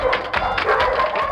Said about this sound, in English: Are there dogs applauding?